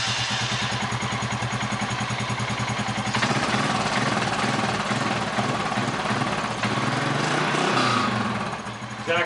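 Small engine running steadily and loudly after an ignition coil swap, a continuous buzzing drone that persists alone throughout, with a slight shift in tone partway and a dip near the end.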